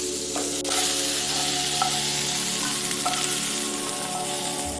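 Spring onion frying in a pan over a high gas flame for a homemade pizza topping, a dense, loud, unbroken sizzle with a few faint clinks.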